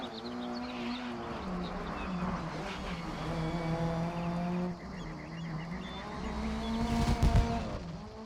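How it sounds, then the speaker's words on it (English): Alfa Romeo 155 race car engine in a racing video game, droning steadily with a rising and falling pitch through gear changes. Tyre squeal and a rough burst toward the end come through close and loud, with no talking. "I let you listen to the sound of the car itself"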